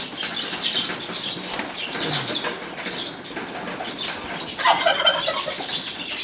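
Arab tumbler pigeons burst into the air with bursts of rustling, flapping wings, the fluttering swelling and fading over several seconds with a stronger flurry toward the end.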